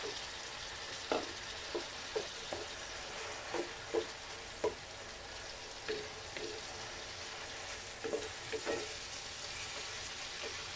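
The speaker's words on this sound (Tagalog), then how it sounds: "So let's just put our corn tuna." Corned tuna sautéing in a pan, a steady crackling sizzle under a string of soft spoon-against-pan taps at irregular intervals, close and moderate, with no talking.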